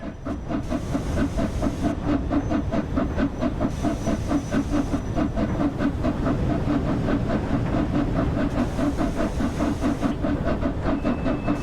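The LNER Flying Scotsman steam locomotive working a train on the East Coast Main Line, gathering speed uphill: rhythmic chuffing exhaust beats over a constant steam hiss, with short bursts of higher hissing recurring.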